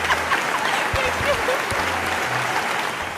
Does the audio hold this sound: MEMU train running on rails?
no